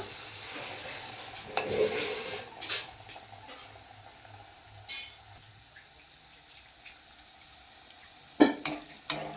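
Malpua batter poured into hot oil fries with a soft, steady sizzle, broken by a few sharp clinks of utensils against the pan; the sound is fairly quiet and close, with no talking.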